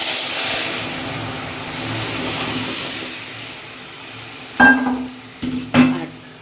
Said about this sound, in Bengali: তো এবার ডালটা ঢেলে দেব।